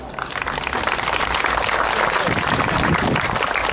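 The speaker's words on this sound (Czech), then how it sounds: "vychutnat si potlesk, dětský folklorní soubor Stavbárik" Audience applauding a Slovak children's folk dance ensemble at a folklore festival show, a steady dense clapping that fills the whole stretch without pause.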